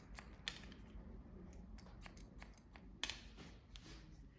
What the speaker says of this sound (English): I'm gonna come straight across and point cut into this.